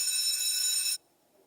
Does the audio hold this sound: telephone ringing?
yes